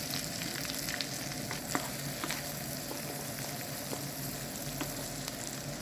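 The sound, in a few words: stirring chopped garlic frying in pan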